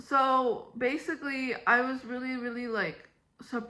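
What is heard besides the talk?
No everyday noise stands out behind the speech.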